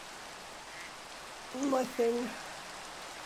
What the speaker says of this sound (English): Let me just get rid of this rain